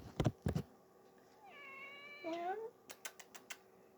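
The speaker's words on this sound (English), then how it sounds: "She is the sweetest cat." A shy pet cat gives a clear meow mid-clip, with a voice talking to her around it; short sharp clicks before and after.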